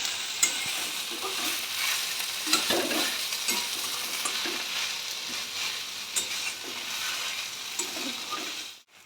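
Chopped banana stem fries in a pan with winter melon leaves, a continuous close sizzle broken by intermittent scraping stirs of a spatula, with no talking.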